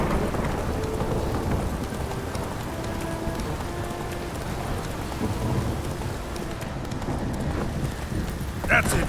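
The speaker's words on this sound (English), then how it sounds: "This downpour's a bastard, it is. If it don't stop raining" Heavy rain pours steadily with low rumbles of thunder in The Witcher 3: Wild Hunt, a dense constant wash of water, while a voice speaks over it.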